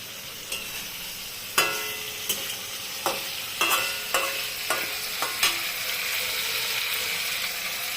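Hilsa fish frying in a pan over a raised gas flame, a steady crackling sizzle broken by sharp clicks and scrapes of stirring, with no talk.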